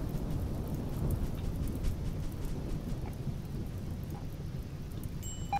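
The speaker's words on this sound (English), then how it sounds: "a flash storm is over, but pretty much quite a few things are on fire." Thunder rumbles low and steady beneath constant rain during a flash storm in the video game Rimworld, a dense, continuous wash of storm noise with no pauses.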